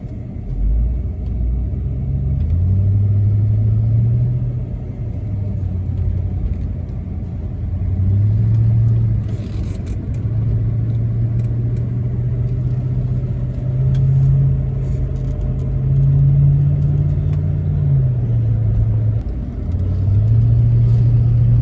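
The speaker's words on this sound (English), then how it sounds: "Falcon Ute's doing a great job towing the Studebaker." A Ford Falcon ute's engine drones steadily while towing a Studebaker Lark on the road: a continuous, fairly loud low rumble with gentle rises and falls in pitch as the engine works, and no voices.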